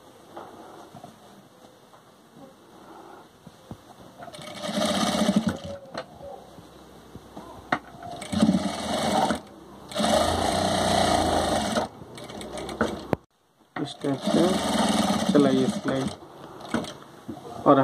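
A sewing machine stitches a homemade cloth face mask in several bursts of fast, whirring running, stopping and starting between, while a person talks during the quieter gaps.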